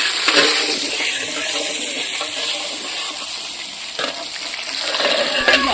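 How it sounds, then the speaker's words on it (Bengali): Pointed gourd (potol) fries in oil in a pan, a loud steady sizzle with occasional stirring scrapes and small bursts, no talk. "এদিকে আমাদের পটল ভাজাভাজি চলছে"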